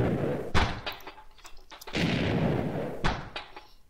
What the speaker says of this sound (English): I'm going to blow up that explosive crate